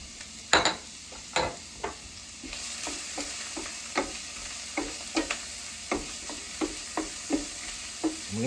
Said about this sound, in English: We're going to get them cooking. And we're going to take our garlic,